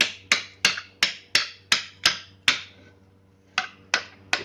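A hammer strikes a metal chisel to strip apart an industrial high bay light for metal recovery: about eleven sharp, ringing taps at a steady beat, close and loud, with one short pause after the eighth hit.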